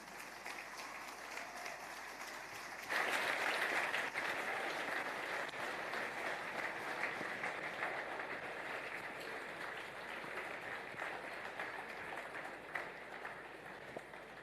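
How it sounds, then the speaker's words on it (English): A conference audience breaks into applause for speaker Ngozi Akinyele, starting abruptly and continuing as a steady, fairly distant wash of clapping for over ten seconds. "Please give a warm round of applause for Ngozi Akinyele."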